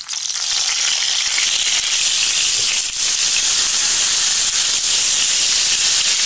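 Whole raw mangoes sizzling and frying in hot oil for pickle, a loud, continuous hiss and crackle throughout with no speech.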